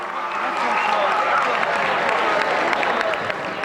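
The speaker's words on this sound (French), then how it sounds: "Il était applaudi." A crowd applauds as people are taken to the port of Beirut, a broad wash of clapping and crowd noise at mid distance with a voice talking over it.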